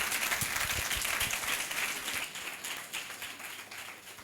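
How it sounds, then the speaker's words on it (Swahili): An audience at an investment talk bursts into steady, dense applause that fills the whole stretch, loud at first and easing slightly toward the end. "Naomba mumpigie makofi ya nguvu sana."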